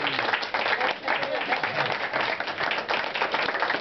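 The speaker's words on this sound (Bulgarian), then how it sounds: "ръкопляскайте малко" An audience at a comic storytelling performance about Ravana claps in a dense, steady burst of applause, moderately loud and continuous with no pauses.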